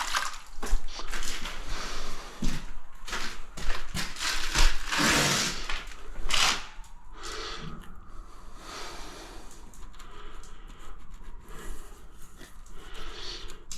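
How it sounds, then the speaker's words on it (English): Hands are washed under running water at a shower-floor tiling job, with a steady close splashing and rubbing that grows louder, then eases to a softer trickle. "Wash my hands."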